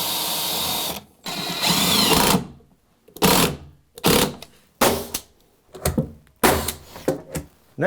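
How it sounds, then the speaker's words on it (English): A power drill drives screws into a hardwood-floored mudroom bench seat, heard as about seven short, loud whirring bursts separated by brief pauses. "So I'm going to put a couple screws in and suck those in tight."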